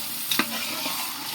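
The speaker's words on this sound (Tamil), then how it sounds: "1 கிலோ தக்காளி வெங்காயத்தையும் போட்டு நல்லா வதக்கணும்." Tomatoes and onions sautéing in a pan for biryani make a brief, soft sizzle with a quick spoon stir and a light scrape, heard close and with no voices.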